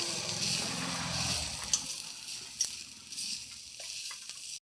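Garlic and green chilli fry in hot oil with a steady, moderate sizzle, punctuated by a few faint clinks, before cutting off abruptly.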